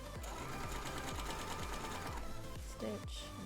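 A sewing machine stitches a narrow hem gather in a steady rapid rhythmic whir of needle strokes, close and continuous, briefly pausing near the end, with someone talking faintly over it.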